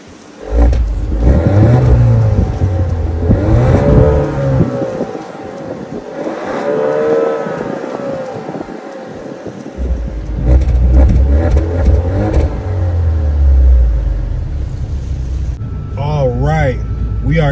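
Cabin view of a 2022 Alfa Romeo Giulia Q4 Ti as its engine revs and accelerates, the drone rising and falling in pitch over a steady low rumble, with faint murmuring and a few high electronic chirps near the end.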